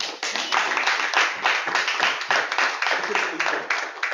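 Club audience at a Toastmasters session clapping to welcome the Toastmaster, a close, moderately loud run of clapping with a pulsing, uneven rhythm.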